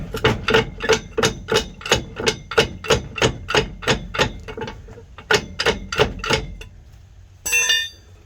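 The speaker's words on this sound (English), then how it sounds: "I'm trying to work this drive shaft out." A pry bar knocks against a drive shaft to work it out of a rear end, giving a rapid series of loud, close metallic strikes, a short pause, then more hits and a final scrape.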